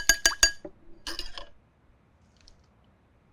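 A whisk clinking against a bowl while mixing a lemon and shallot dressing with vinegar, a few quick bright metallic taps followed by a shorter burst of stirring clatter, then quiet.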